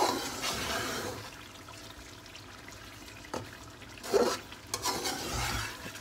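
Chicken karahi frying in oil in a wok-style pan, stirred with a utensil: a steady broadband sizzle runs throughout, with a sharp scrape near the middle and louder clattering stirs toward the end, close and with no talking.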